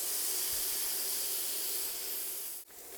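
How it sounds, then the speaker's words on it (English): Filet mignon steak searing in a hot pan, a steady close hiss of sizzling fat with a brief dip near the end; no talking. "Now you want this pan to be nice and hot when you put the steak in so you get that nice crust on the outside of the steak"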